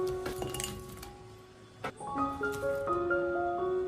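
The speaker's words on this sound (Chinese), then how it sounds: "苦瓜全部切好以后倒入碗中备用" Sliced bitter gourd tumbles into a bowl with bright clinks and a lingering ringing tone from the bowl, close and fairly quiet, with no talking.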